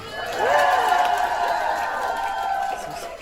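A crowd at a doll convention breaks into steady applause with some cheering, filling the space for a few seconds before tapering slightly.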